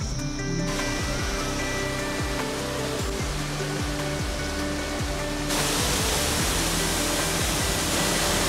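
A waterfall at the Rock Garden in Darjeeling gives off a steady, dense roar of rushing water that grows louder partway through, with a faint tonal hum underneath and no speech.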